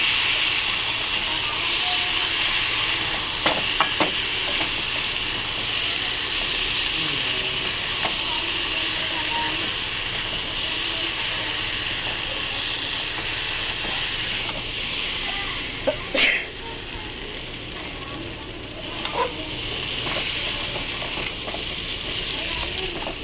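Potatoes frying in a pan for aalu posto, stirred on low heat, give a steady loud hiss and sizzle with occasional scraping knocks.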